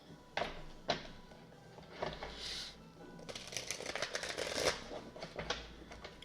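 Oracle cards being shuffled in repeated papery riffling bursts, close and fairly quiet, with brief pauses between rounds and no talk.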